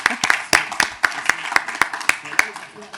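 At a conference on citizen climate assemblies, an audience gives a bout of brisk, rhythmic clapping with crisp individual claps standing out, while voices murmur underneath.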